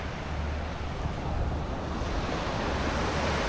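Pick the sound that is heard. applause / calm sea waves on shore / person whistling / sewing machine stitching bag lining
calm sea waves on shore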